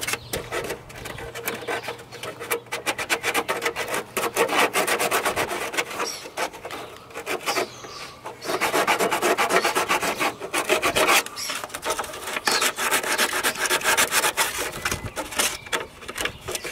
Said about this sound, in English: Been sanding on there